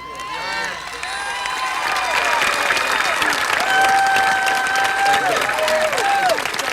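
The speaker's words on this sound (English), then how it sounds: "Give him a round of applause." A large outdoor crowd at the 40th anniversary March on Washington gives loud, sustained applause and cheering for Congressman John Lewis, with whoops and shouts over steady clapping and a few voices calling out.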